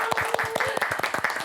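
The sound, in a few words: audience applause welcoming guests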